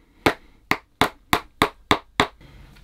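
Seven sharp, evenly spaced hammer blows drive copper-plated lasting nails into a leather shoe held on a last, each strike loud and close with a quick decay, then quiet.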